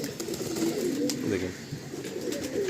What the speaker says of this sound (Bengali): খুব সুন্দর এই পায়রাটা, সামনে থেকে দেখে না মানে মন ভরে গেল পায়রাটা। রামপুরি পায়রা, তাই তো?